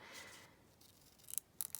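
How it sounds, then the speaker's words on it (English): Scissors snipping through paper or card during a craft workshop, a few short crisp cuts near the end after a quiet start, close and fairly faint. "You can just cut in here with your scissors"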